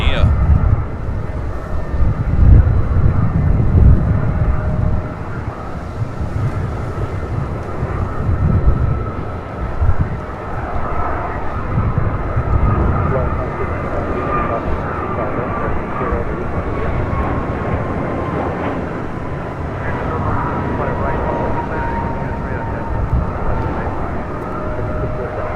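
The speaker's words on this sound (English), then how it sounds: "Next takeoff here on the south side on 25 right. American Airlines flight 345 heading to Miami." American Airlines A321neo jet taking off on the south side of LAX, its engines building to a heavy low rumble early, then settling into a sustained roar with a slowly sliding tonal whine.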